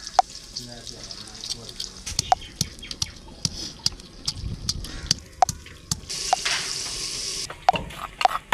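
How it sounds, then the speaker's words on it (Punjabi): Onions hitting hot ghee in a home kitchen pan, crackling sizzle with sharp clicking utensil strikes recurring throughout, a louder burst of frying hiss near the end, with faint background talk. "ਘਿਓ ਗਰਮ ਹੋ ਗਿਆ ਤਾਂ ਹੁਣ ਵਿੱਚ ਪਿਆਜ਼ ਪਾਤੇ ਨੇ"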